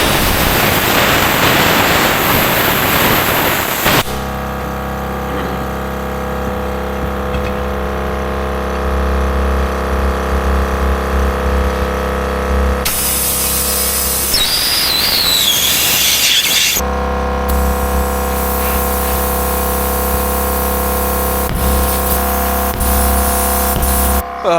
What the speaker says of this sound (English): We're gonna be shooting air right there.